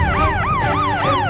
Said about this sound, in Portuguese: a ambulância tá chegando